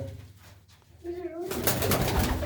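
Pigeons cooing in a loft, a soft throaty coo rising out of quiet, followed by louder rustling noise and people talking nearby.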